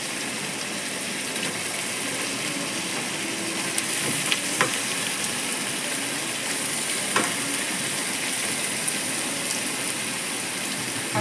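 Chicken meat frying in a hot pan gives a steady, even sizzle throughout, with a few faint clicks and scrapes of stirring and no talking.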